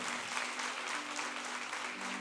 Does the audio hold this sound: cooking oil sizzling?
no